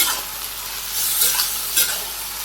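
Vegetables sautéed with a little turmeric in a pan, loud continuous sizzle with scraping spatula strokes around the middle and near the end, close up and without voices.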